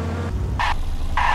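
A video game car engine roars with a loud, turbine-like whine, steady throughout, and two short bright tonal beeps sound over it midway and near the end.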